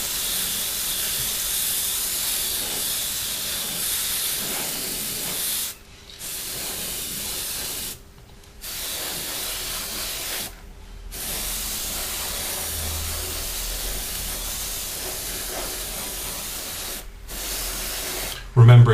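Airbrush or spray can hissing steadily as paint is sprayed onto a Revell 1/48 F-15E Strike Eagle scale model, a continuous close hiss broken by several short pauses between passes.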